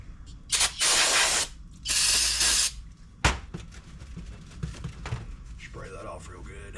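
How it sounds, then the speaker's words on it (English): Spray cleaning a part from an Echo PE-200 edger during repair: two loud, hissing aerosol bursts of about a second each, close by, followed by a sharp clack and softer handling and ratcheting noises. "Let me spray this thing off."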